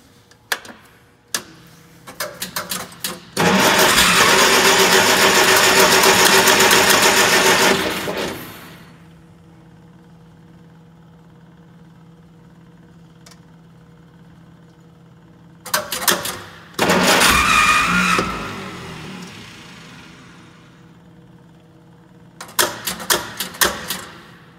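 A 1947 Clark tug's old engine cranking and sputtering to life, loud rapid clattering bursts that start and stop several times with quieter pauses between, battery charger attached and the engine seeming starved for fuel.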